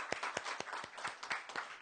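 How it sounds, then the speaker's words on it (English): Small audience at a poetry open mic clapping for a featured reader, a brief burst of scattered, fairly faint hand claps. "Let's have a round of applause for our featured reader."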